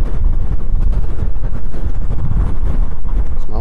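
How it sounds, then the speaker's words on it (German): Heavy wind buffets the microphone during an IoHawk Collide ride test, a loud, continuous rumbling roar with gusty fluctuations throughout. "das rauscht auch ziemlich doll, weil hier ist ordentlich Wind"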